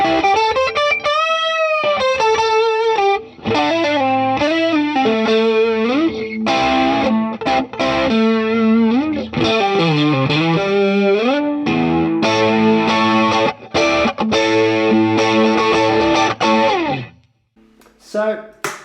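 Electric guitar with a chorus effect switched on, heard on a home practice rig with a Strat-style in-between pickup setting, playing a loud, continuous run of chords and bending notes with a wavering, shimmering tone before stopping near the end.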